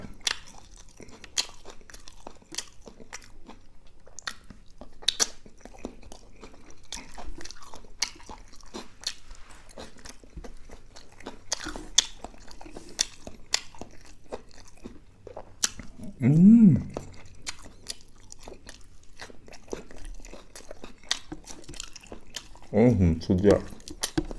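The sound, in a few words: chewing spicy pounded pork sausage salad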